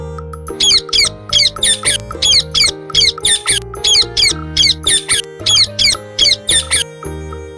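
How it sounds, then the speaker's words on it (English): A parrot gives a fast run of shrill, rasping squawks in short regular bursts, loud and close, over a steady musical backing. "P for parrot."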